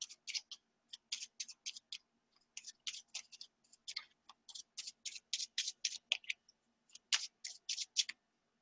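A deck of playing cards is shuffled by hand, a quiet series of rapid riffling, flicking bursts in short irregular clusters, close and crisp with no voices.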